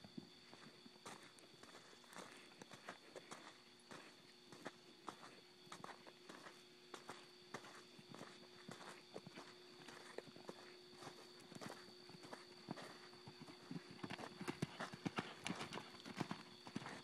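A rope horse trots outdoors, hooves clip-clopping in a steady rhythm that grows louder and busier toward the end, over a faint background hum, with no talk.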